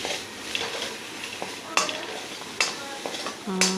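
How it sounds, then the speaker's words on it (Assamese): Crushed ginger and garlic paste frying in a pan for a pointed gourd curry, a soft sizzle broken by sharp clinks and scrapes of a spoon stirring against the metal at irregular intervals, close and moderately loud. "এতিয়া আকৌ অকণ সময় ভাজি ল'ম।"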